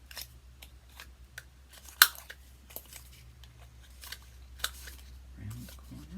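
Scissors snip repeatedly, rounding off the corners of a paper tag, with crisp irregular cuts close by and one sharper snap, over a low steady background hum.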